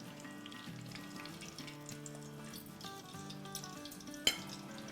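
Bajra (millet) kabab balls fry in oil with a faint, steady sizzle beneath soft sustained background tones, broken by one sharp clink near the end.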